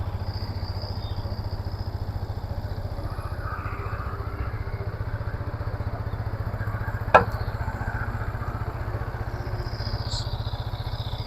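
A Yamaha XSR 155 motorcycle engine idling in neutral, a steady low mechanical thrum running throughout with one brief sharp click near the end.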